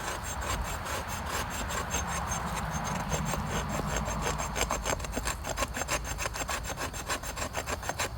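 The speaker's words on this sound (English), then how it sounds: "I'm thinking that you could probably do some scraping with it" Condor Atrox knife spine scraped along wood to raise shavings and curls, a steady run of close, rhythmic rasping strokes that grows more distinctly pulsed toward the end, with no talking.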